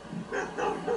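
Three short, close barks in quick succession, each a sharp yelp-like burst with brief gaps between.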